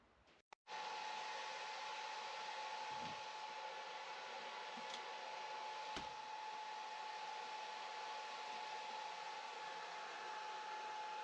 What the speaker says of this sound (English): I stole my wife's blow dryer